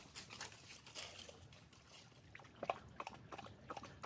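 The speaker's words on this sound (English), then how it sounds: "Do you let your dog drink in random streams with the stuff he eats and the bad puddle water he drinks" A dog drinks from a small running stream on a wooded trail. A faint, steady trickle of water runs throughout, joined by soft, irregular lapping and splashing toward the end.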